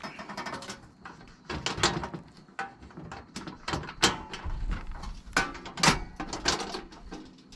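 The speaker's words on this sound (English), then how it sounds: "The cooker typically goes like so. Open it up." A portable camper van cooker is opened up with a string of clacks, clicks and sliding knocks from its lid and parts, close and fairly busy, with no voices over it.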